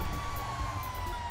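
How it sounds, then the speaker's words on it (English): Fire truck siren in GTA 5 with a firefighter mod, a faint continuous wailing tone under a steady engine-like rumble, heard alone without talk. "Oh shit, I forgot to turn on my siren."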